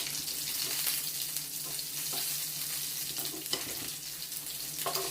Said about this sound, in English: But basically, it's fried cornbread. You don't want it to stick.